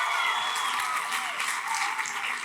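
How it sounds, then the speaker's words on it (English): An audience at a Formula 1 Australian Grand Prix fan event gives a big round of applause, a dense, continuous wash of clapping heard briefly and at close range. "give him a big round of applause."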